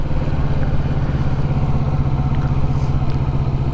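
A motorcycle engine idles in a steady low, even putter as the rider pulls in the clutch to come to a stop, close and fairly loud with no voices.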